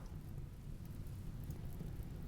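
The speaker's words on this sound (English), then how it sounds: "Of course, there's rain." Steady rain with low thunder rumble from the RimWorld game, a continuous broadband wash at constant loudness with no voices.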